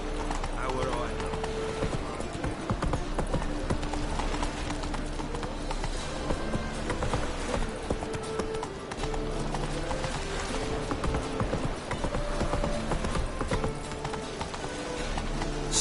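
Roach, a horse in The Witcher 3, gallops with steady clip-clop hoofbeats under a continuous music score, with brief talk and a faint whinny mixed in.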